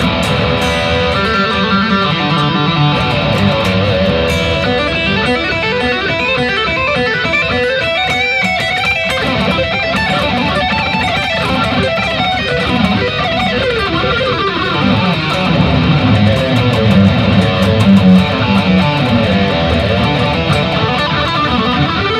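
B.C. Rich Mockingbird STQ electric guitar played with an out-of-phase pickup setting, giving a thin, hollow, wah-like tone; loud, continuous strummed and picked passages ring out alone without talk.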